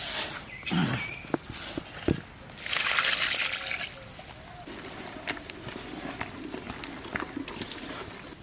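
Water is poured into a cooking pot in a home kitchen after spices are added. A brief rushing pour is flanked by trickles, clinks and handling knocks, all at moderate loudness with no speech.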